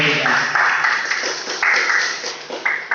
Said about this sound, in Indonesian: kita berikan tepuk tangan dulu ya kepada peserta kita